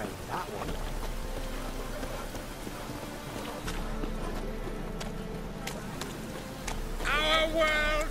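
Steady rain in Witcher 3 hisses as a continuous broadband wash throughout, with occasional clip-clop of a horse underneath and a brief burst of tonal game sounds near the end.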